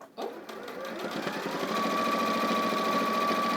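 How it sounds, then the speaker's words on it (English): A sewing machine stitching around the edge of a placemat, a fast steady mechanical whir and rattle that starts abruptly and holds even and close, with no talking. "So I'm just sewing around to finish the placemat now"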